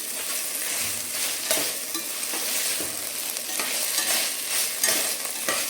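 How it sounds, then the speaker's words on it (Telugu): Ginger garlic paste fries with browned onions for paneer biryani, giving a loud, close, continuous sizzle with rhythmic scraping stir strokes throughout. "అల్లం వెల్లుల్లి పేస్ట్ 1 టేబుల్ స్పూన్. ఇది కూడా బాగా ఫ్రై అవ్వాలి."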